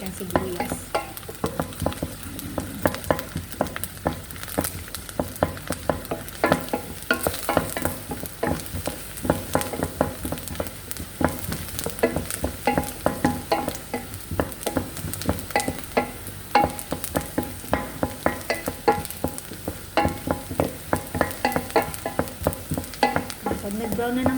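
A large batch of onions fries in a pan for meat laham salona, a steady loud sizzle broken by frequent scraping and stirring strokes of a utensil throughout, with no voices.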